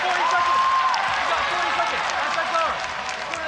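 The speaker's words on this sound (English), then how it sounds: "Crowd loving the advantageous position now for Tiffany Teo" Crowd noise at a women's MMA bout swells steadily as a fighter secures a takedown and top position, a dense wash of cheering and clapping with a commentator's voice running over it throughout.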